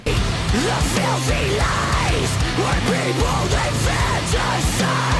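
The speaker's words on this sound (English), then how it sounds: "they're a progressive metal band that sounds like this." Dense, loud progressive metal: heavy distorted guitars and pounding drums with bending lead lines, continuous and driving throughout.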